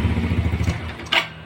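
A Yamaha Vega R motorcycle engine, hard to start in the morning, sputters and rumbles briefly after a kick, fades out as it dies, then a short sharp clank.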